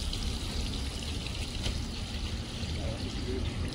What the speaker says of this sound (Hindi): वाटर फ्लो ऐसे पानी गिरता रहेगा